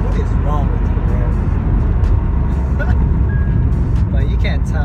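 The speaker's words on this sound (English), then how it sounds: "look at my boy racing my fucking car, man." Purple widebody Dodge Charger racing, a steady loud engine roar that fills the whole stretch alongside other road traffic, with people talking excitedly over it.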